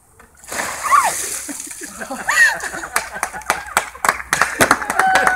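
A bucket of ice water is poured over a person outdoors, a few sharp splashes and slaps of water landing close by, mixed with scattered clapping-like spatters and brief voices.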